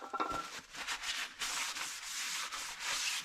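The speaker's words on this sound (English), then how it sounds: "Let's get this rotor cleaned off." A cloth or pad rubbing over a car brake rotor during a Honda Odyssey front brake job, giving quiet, continuous scrubbing strokes in several passes.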